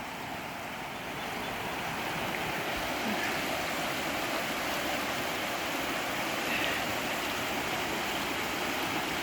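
A fast-moving river rushes past in an even, continuous wash of flowing water at moderate loudness, slightly swelling partway through, with no talking.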